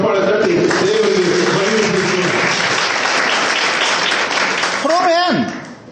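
A congregation at a Christian mission rally in India claps together in a dense, steady burst for about five seconds, with a voice speaking or singing over it. The clapping thins and stops abruptly near the end.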